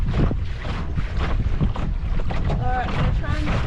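Wind buffeting a Mirror dinghy out sailing on a lake, a loud, rough blustery roar pressing on the microphone throughout, with water sounds beneath and voices faintly under the noise.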